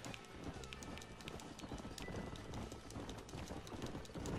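Horse hooves gallop in the Western video game Red Dead Redemption, a fast continuous clip-clop running under a dense wash of game sound, steady and fairly loud throughout.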